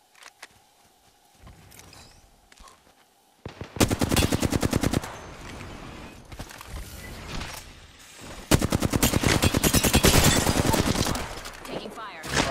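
Rapid automatic gunfire in a first-person shooter game, loud close bursts of sharp evenly spaced shots in several long strings, separated by quieter stretches, with no one talking.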